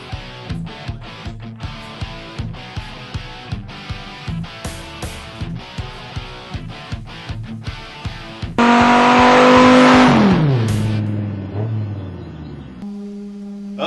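Two Chris Craft 454 boat engines that have sat for ten years in unknown condition turn over with a rapid rhythmic starter cranking, then one catches and roars loudly to life before settling into a steady idle.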